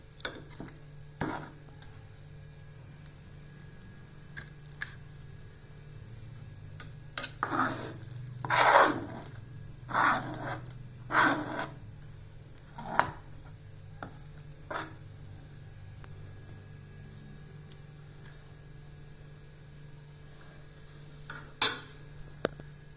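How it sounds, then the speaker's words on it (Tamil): Moong dal sweet being scraped out of a pan into another vessel, with a run of close scraping and clinking strokes of a spoon against metal clustered in the middle, then a few scattered light taps. "இப்போ நம்ம வேறு பாத்திரத்தில் மாற்றிடலாங்க"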